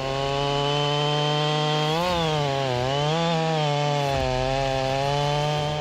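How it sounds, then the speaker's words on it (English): A Homelite chainsaw runs loud and steady at close range, cutting oak, its engine pitch dipping and rising as it bites into the wood, with no voices. "The Homelite chainsaw has been around for a long time, but there's no denying its power is still amazing."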